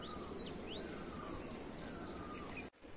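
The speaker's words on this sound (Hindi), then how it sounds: "ओ कबूतर, सारे गैंग इकट्ठी हुई है कबूतरों की।" A flock of gathered pigeons calls amid a steady broadband background hiss, with brief overlapping chirps and coos scattered throughout before a sudden cut near the end.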